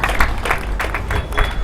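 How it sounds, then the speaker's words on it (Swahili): A church congregation claps together during a sermon, the applause rising and falling in several bursts over a steady room murmur at moderate loudness. "Tumpatie Kristo makofi ya utukufu"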